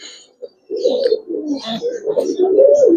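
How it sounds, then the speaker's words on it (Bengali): A pair of Silver Giribaz pigeons coos nearby in soft, low, rolling bursts, loud and close, after a brief opening note. "এই জোড়াটা আবার সারাসারি ব্লাড লাইনের কবুতর"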